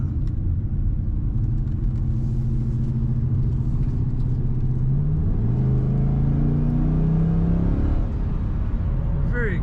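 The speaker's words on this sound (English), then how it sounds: "Let's get around the corner here and accelerate one more time." A 2004 Pontiac GTO coupe accelerates from inside the cabin, its engine rumble rising in pitch through a gear change and climbing again, loud and continuous throughout.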